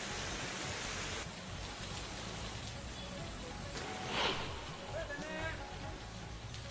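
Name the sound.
rain falling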